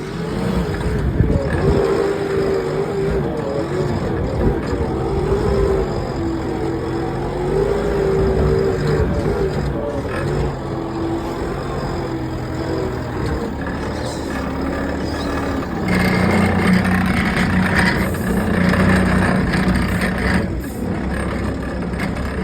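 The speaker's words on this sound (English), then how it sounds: "I think we'll use the big 9-ton dumper" A big 9-ton site dumper's diesel engine runs steadily nearby on a concreting job, a continuous rumbling drone that shifts pitch slightly and rises in the final seconds.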